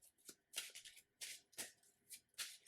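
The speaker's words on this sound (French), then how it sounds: "Je remélange mon deck" A deck of Marvel Champions game cards being riffled and shuffled by hand, a series of quick soft crisp bursts roughly every half second, close and quiet.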